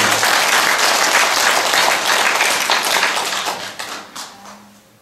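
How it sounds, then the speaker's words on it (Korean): A congregation at a Catholic charismatic prayer Mass in Incheon bursts into dense, sustained applause that fills the space, then thins and fades out with a few last claps. "어머니이신 성모님께 감사와 찬미의 박수를 보내드립니다."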